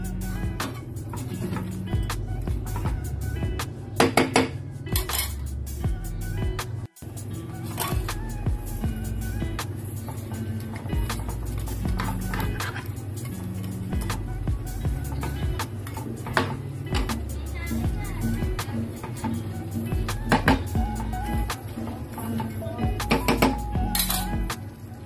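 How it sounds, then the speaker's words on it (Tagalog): Buttered garlic shrimp stirred in a pan, with a spoon or spatula repeatedly clinking and scraping against the metal over a continuous low kitchen hum, the sharp clinks coming in irregular bursts. "Haluin lang po natin maiki upang magpantay-pantay ang kanyang pagkakaluto."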